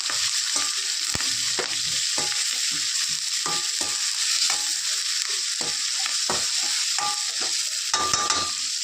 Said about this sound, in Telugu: ఇది బాగా వేగాలి ఫ్రెండ్స్. ఉల్లిపాయలు వేసాం కదా,